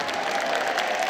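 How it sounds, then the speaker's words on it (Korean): A brief burst of dense audience applause fills a large auditorium at a church revival meeting, with a faint murmur of crowd voices under the clapping. "박수 박수."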